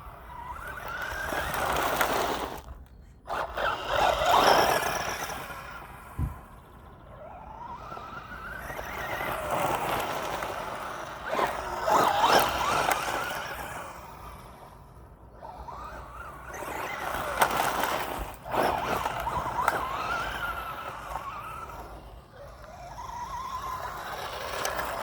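A brushless-upgraded Tamiya TT02B rear-wheel-drive RC buggy runs on its first outing, its electric whine rising and falling in repeated passes with occasional tire scrabbling, loud then fading, with no talk.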